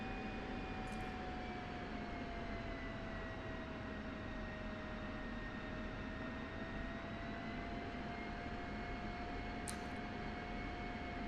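An F-16 jet taxiing in a flight simulator game, a steady, even engine whine and broadband rush holding constant throughout, with faint clicks near the start and end.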